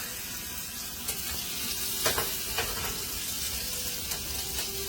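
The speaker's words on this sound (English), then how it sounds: "put a little bit of butter in there, and I'll put these meatballs in here on a medium-low heat so it can cook" Meatballs frying in butter in a pan over medium-low heat, a steady soft sizzle with occasional faint clicks and pops.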